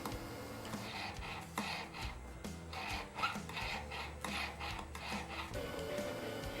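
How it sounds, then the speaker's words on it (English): A half round file rasps against the inside seam of a gold ring in a jeweller's workshop, giving a series of short, close scraping strokes in an uneven rhythm. "Using a half round file, a few strokes should even out the inside of a well-fitted joint."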